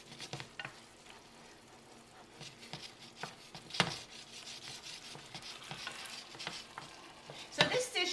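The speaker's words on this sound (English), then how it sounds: "About a tablespoon or 2 of heavy cream and a tablespoon of butter." Heavy cream and butter sizzle in a pan with shrimp, a steady frying hiss with occasional stirring scrapes and clinks, close and moderately quiet throughout.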